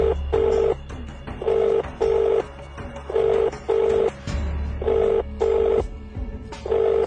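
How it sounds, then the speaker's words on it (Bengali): A telephone rings in a repeated pattern of short electronic tone bursts separated by brief gaps, fairly loud and steady, with no talking over it. "স্যার, স্যার লুসি ফোন করেছে।"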